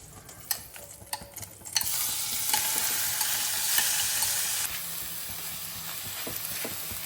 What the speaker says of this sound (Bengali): শাকটা কিন্তু একটুখানি ভাজবো, ঠিক আছে, হালকা, বেশি নয়।